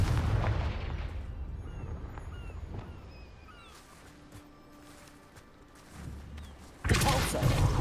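A Confringo blasting spell exploding in Hogwarts Legacy, a loud booming burst that fades into game ambience before a second heavy blast erupts near the end.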